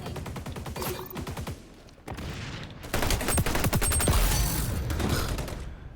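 Automatic gunfire in the XDefiant online shooter, several bursts of rapid shots separated by short pauses, loud and close, with a brief lull before a longer, denser volley.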